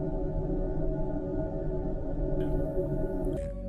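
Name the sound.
NASA sonification of Uranus electromagnetic signals from Voyager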